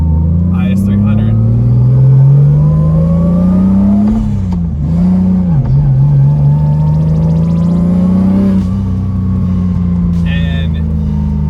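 A 1JZ-swapped Lexus IS300 with a turbo engine accelerating hard, its loud droning engine note rising and dipping as it pulls through the revs, with people talking over the constant rumble.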